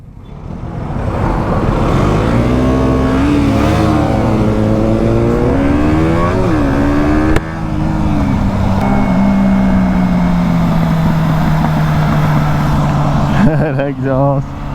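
A KTM 125 Duke motorcycle's exhaust revs up and down during a group ride to a café in Leeds, Yorkshire; the engine note climbs and falls repeatedly, loud and close, with steady wind rush throughout.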